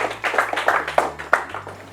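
Rhythmic hand clapping, a few claps per second throughout two seconds, moderately loud and close, with a steady low hum underneath.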